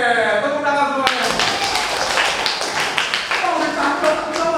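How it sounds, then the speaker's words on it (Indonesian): Students clapping their hands together in a classroom, a burst of brisk clapping breaking in after a teacher's spoken instruction, with voices talking and shouting over it. "Oke, tepuk tangan semuanya."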